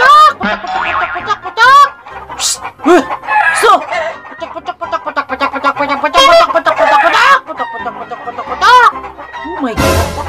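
Chickens and a rooster raise a loud, continuous racket of clucking and crowing close by at a family cooking gathering, with a woman exclaiming over the noise throughout.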